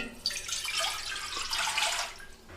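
Water splashing and running steadily into a pan for a crispy macaroni snack recipe, a continuous close, bright pour lasting a couple of seconds with no talk.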